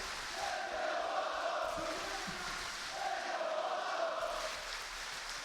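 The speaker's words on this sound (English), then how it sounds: "Listen to that crowd." A large crowd at a fighting game tournament roars and chants in swelling waves, loud and distant-sounding, with the cheering rising and falling twice.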